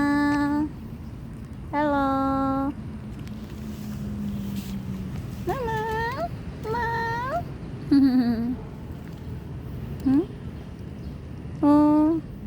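A cat meows repeatedly, several drawn-out meows spaced a couple of seconds apart, close by over a faint background hum.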